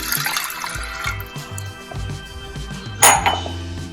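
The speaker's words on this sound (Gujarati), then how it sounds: "એક ગ્લાસ જેટલું પાણી એડ કરીશું" Water poured from a glass into a pressure cooker while making a fenugreek-seed curry, giving a steady splashing wash with a sharp metallic clink near the end.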